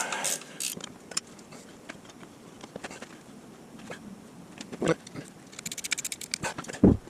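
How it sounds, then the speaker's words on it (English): A wrench loosens the alternator bolt on a Kubota KX excavator, making scattered metallic clicks and ratcheting taps. The taps are close but mostly faint, with a louder cluster of clicks near the end. "Gonna loosen this alternator bolt."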